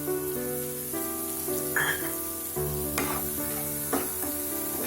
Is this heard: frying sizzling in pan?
yes